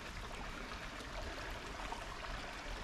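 A river at The Ledges in Grand Ledge, Michigan flows with a steady, broadband rushing wash, constant and fairly close, with no voices over it.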